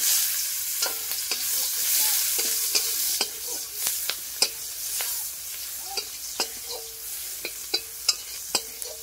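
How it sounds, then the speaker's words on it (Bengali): Chopped onion sizzles in hot oil in a wok for an okra-and-shrimp dish, a steady close hiss broken by sharp scraping clicks of a utensil stirring at irregular intervals, with no voices. "এই যে আমি পেঁয়াজ কুচি দিয়ে দিলাম"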